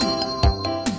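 A telephone ring sound effect in a children's counting song, a short electronic trill with bursts repeating over a steady musical backing.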